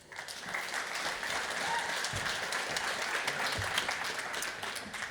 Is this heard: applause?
yes